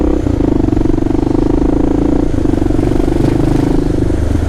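A KLR650 motorcycle engine drones loud and steady from close by while riding over city manhole covers, with faint clattering over the continuous road and wind noise.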